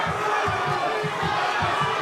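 A dense, steady roar from an arena crowd watching a kickboxing fight, with loud, continuous cheering and shouting and no pauses.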